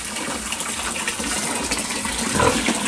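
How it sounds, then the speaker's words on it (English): Water gushing from a hose into a sow's pen in a steady, loud, close rush that swells a little toward the end, with no talking. "I'm gonna put a little more water in this girl's pen here."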